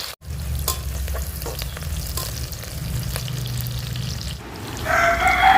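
Onions frying in oil in a pressure cooker for chicken biryani, a loud continuous sizzle with stirring scrapes, briefly cut off before a brighter, more intense hiss near the end.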